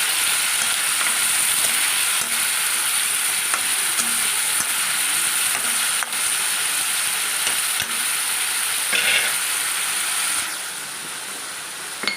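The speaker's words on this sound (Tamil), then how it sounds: "இப்போ தக்காளி சேர்த்துக்கலாம்" Tomatoes fry in a pan for a spicy fish curry, giving a steady, loud, bright sizzle with a few faint ladle taps, easing slightly near the end, heard close and alone without speech.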